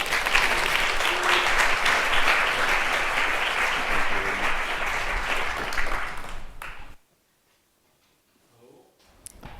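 Conference audience applauding an emergency medicine speaker taking the stage for a talk on critical ultrasound, sustained dense clapping for several seconds that cuts off into near silence, followed by faint stage noise.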